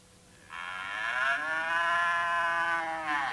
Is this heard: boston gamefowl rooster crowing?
no